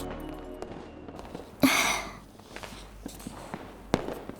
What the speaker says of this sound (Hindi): हमारे साथ चल के पटाखे चलाओ ना।